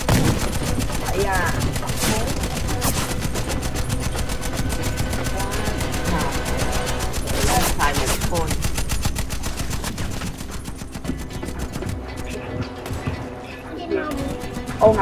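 Sustained automatic gunfire rattles almost continuously in a Warface match, dense rapid bursts at close range under scattered talk, thinning slightly toward the end.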